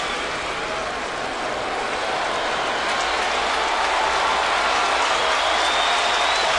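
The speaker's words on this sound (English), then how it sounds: "the crowd is cheering that fact" Crowd at a baseball stadium during a Toronto at New York game, cheering and applauding steadily in a broad, continuous roar that swells slightly toward the end, heard from a distance.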